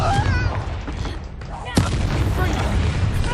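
Confringo blasting spell going off during combat in Hogwarts Legacy, with booming explosive blasts and gunfire-like bursts over dense game noise, while a voice calls out spell names.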